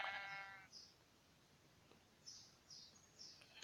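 Sheep in the World of Warcraft video game bleat in several short, faint calls spread across the stretch, over a steady low game background.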